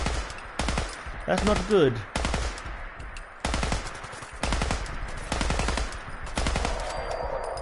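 Rapid bursts of automatic gunfire ring out in the video game Fallout 4, loud and steady, in a run of repeated volleys with short breaks between them. Someone briefly speaks over the shooting.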